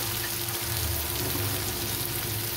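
Steady, dense sizzling of spices and vegetables being sautéed in a hot pan for a cauliflower and flat bean poppy-seed dish, loud and continuous throughout with no talk.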